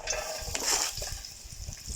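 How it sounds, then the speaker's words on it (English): Sliced onion dropped into hot vegetable oil for a vegan curry, a close, steady crackling sizzle with faint stirring and light pan scraping, no talking. "It sizzles up straight away."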